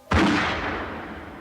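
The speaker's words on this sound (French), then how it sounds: "Un autre coup de feu." A single gunshot in a TV drama, a sharp loud crack that hits suddenly and rolls off into a long fading reverberant tail over about a second.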